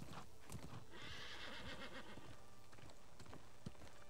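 A horse in the video game New World neighs and whinnies while its hooves clip-clop, with a few close, clear calls over a faint background.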